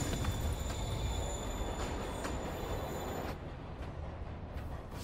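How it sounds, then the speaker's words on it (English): A train moves with a loud, steady rumble and high metallic wheel squeal in the video game Spider-Man on PS4; the squeal drops away near the end while the low rolling noise continues. "Train moving."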